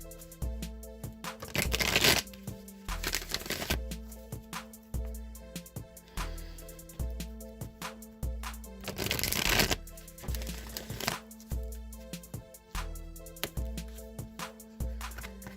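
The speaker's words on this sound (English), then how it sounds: "I am now going to shuffle the Wisdom of the Oracle a few times" A deck of Wisdom of the Oracle cards is shuffled by hand in repeated riffling, slapping passes, close and moderately quiet, with brief louder flurries and no talk.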